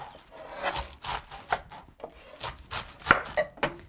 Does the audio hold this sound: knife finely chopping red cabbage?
yes